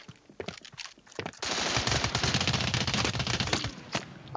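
Rapid automatic gunfire in the mobile shooter Standoff 2, a few scattered shots followed by a sustained loud burst of continuous firing lasting about three seconds.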